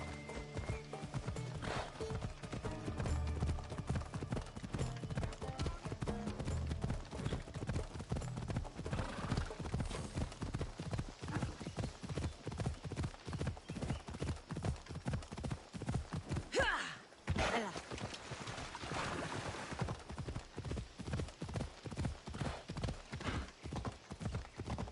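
Horse hooves pound at a gallop in Assassin's Creed Odyssey, a fast regular drumming rhythm, close and loud, with a neigh partway through and a brief pause before the hoofbeats resume.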